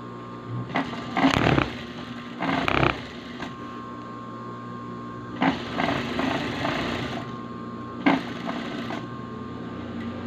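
A sewing machine stitches a drawstring bag in several bursts of rapid whirring and clatter, each lasting about a second, with short quiet gaps between them and no talking.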